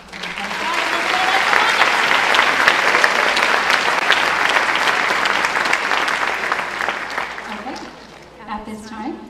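Applause for a graduating class at a school awards night: a loud, sustained burst of crowd clapping that swells in, holds steady for several seconds, then fades as a voice begins speaking at the end.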